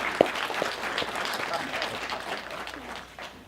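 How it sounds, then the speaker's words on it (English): Applause from a convention panel audience at a Star Wars fan event, steady clapping through the whole stretch, with a voice briefly audible near the start. "Round of applause."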